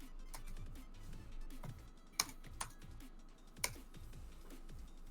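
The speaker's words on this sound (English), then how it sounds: "don't type when I'm typing, Tony." Computer keyboard typing runs steadily throughout, rapid soft key clicks punctuated by a few sharper, louder keystrokes, close and clear with no talking.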